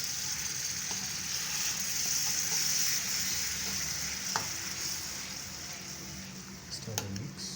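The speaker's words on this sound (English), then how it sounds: "Then we stir" A spoon scrapes and stirs blended tomato in a sizzling pot of carrot soup, with a steady frying hiss and occasional clanks; a voice speaks briefly underneath.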